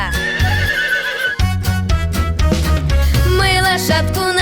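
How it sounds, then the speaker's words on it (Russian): A horse neighs in a whinnying call set within a bouncy children's song, loud and up front over the music. "Лошадка!"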